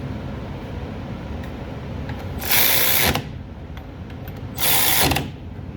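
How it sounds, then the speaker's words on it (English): Bolts on a Jeep Laredo front brake caliper are tightened with a power tool in two loud bursts of about half a second each, over steady background noise with no talking. "Tighten up the bolts."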